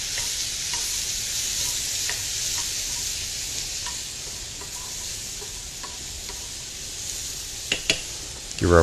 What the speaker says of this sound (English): Give our pasta a stir.